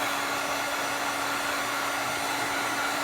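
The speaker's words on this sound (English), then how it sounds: "I like to touch mine up with the heat gun just to get it dry" A heat gun drying ink on a craft card, giving a steady, loud, close airy roar with a constant motor hum, unbroken from start to end, no voices.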